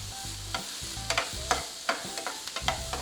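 Pineapple frying in a pan for fried rice, a continuous sizzle broken by repeated scraping and tapping strokes of a stirring spoon, close and steady, with no voices.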